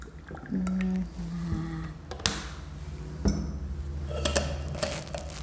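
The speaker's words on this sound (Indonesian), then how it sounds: "kita aduk lagi" A spoon stirs sweetened tea with added cold water in a glass, giving scattered clinks and taps against the glass over soft liquid swirling, with a few sharper knocks.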